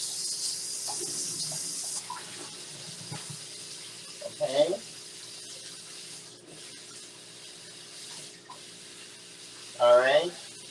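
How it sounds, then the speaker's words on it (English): Cold tap water runs into a kitchen sink while turkey wings are prepared, a steady hiss with a brief louder rush at first, under a person talking. "and then we're going to run some more cold water"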